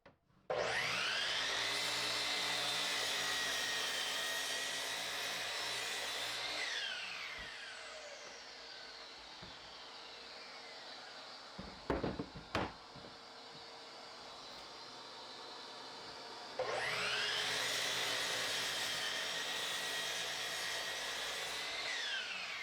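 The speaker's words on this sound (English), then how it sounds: "Trim the bench top on the miter saw, both sides, remove as little as you can." Miter saw trimming a 2x4 bench top, two loud whining cuts, each running several seconds as the blade spins up, bites the wood and winds down, with quiet handling noises between them.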